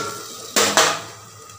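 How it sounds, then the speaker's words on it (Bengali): Stinging catfish boiling in a cooking pot, a steady close hiss of simmering liquid broken by two short, louder sputtering bursts, with no voices. "এই দেখো শুনুর শিং মাছ ফুটছে"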